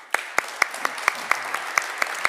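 An audience at a renewables and technology summit applauds a panel, with crisp, evenly spaced claps ringing out briefly in a hall.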